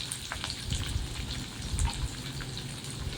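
Onions and tomatoes sizzle softly in hot oil while being sautéed for a white vegetable kuruma, a faint, steady crackling hiss with small pops.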